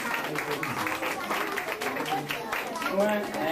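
An audience claps together at a Christmas gathering of a Hong Kong Nepali Christian community, a dense, steady patter of many hands mixed with voices and crowd murmur throughout.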